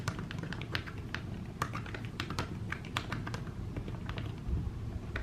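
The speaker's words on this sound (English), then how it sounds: "I'm just going to show you how I type on this keyboard" Rapid, uneven clicking of fingers typing on an iPad Pro keyboard case, close and steady for several seconds, with a low background hum.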